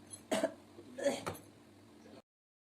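Two short, rough coughs, close by and fairly quiet, followed by faint background noise.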